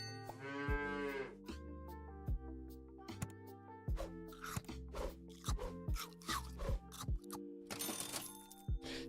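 A cow moos in the video game Hearthstone Battlegrounds, a drawn-out bellow at the start, followed by a string of clicks, chimes and card effects that overlap through to the end.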